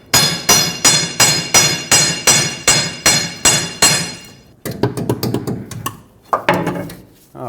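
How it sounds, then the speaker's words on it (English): Repeated hammer blows land on a Chevrolet Colorado lower control arm forward bushing in a steady, ringing rhythm, followed by a pause and a few scattered, lighter clanks and mechanical knocks. "I'm pulling back as I'm hammering."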